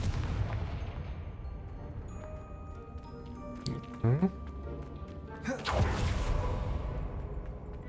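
A Confringo blasting spell goes off in the Hogwarts Legacy video game: a couple of sharp, broadband explosive bursts midway through, ringing over a steady low game ambience with faint ticking.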